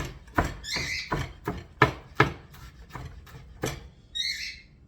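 A knife chops ingredients for tartar sauce, about eight sharp, evenly spaced strikes on a board, close and crisp, followed by a brief high chirping sound at the end, with no talk.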